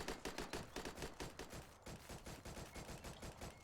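Rapid bursts of automatic gunfire in the survival shooter XERA: Survival, dense rhythmic volleys hammering almost without pause for several seconds, loud and close with no talking.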